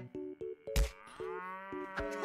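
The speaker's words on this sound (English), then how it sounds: "This farmer's cows are just a little excited about breakfast." Farm cows mooing excitedly at breakfast time, several overlapping calls in quick succession with a sharp thump partway through.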